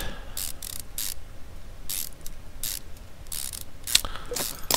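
Ratchet wrench cranking bolts off a V8 exhaust manifold in the game Car Mechanic Simulator 2015, loud bursts of rapid mechanical clicking repeating in short runs with brief pauses, close and alone.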